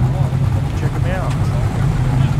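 A Datsun Ute and a Ford Ute driving past on a Sydney street, a loud, continuous low engine drone with a steady rumble, while a person talks over it.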